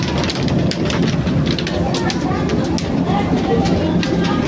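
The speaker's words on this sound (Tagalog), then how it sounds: "Ayan na po ang ulan." Heavy rain pours down in a dense, constant hiss, loud and close, drumming steadily on surfaces.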